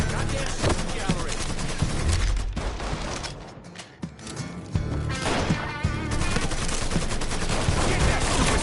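Heavy gunfire in the video game Mafia 3, dense bursts of automatic fire and sharp shots with crashing impacts, loud and sustained with a short lull midway, shouting voices mixed in.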